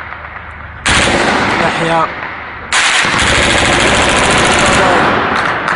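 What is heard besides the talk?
shelling and gunfire hitting homes in Baba Amr, Homs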